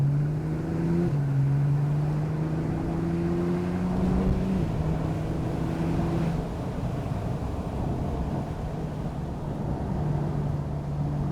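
A steady low engine drone with a soft, subtle exhaust burble underneath, heard from inside a moving 991.1 Porsche 911 Turbo S in sport mode at an even level throughout.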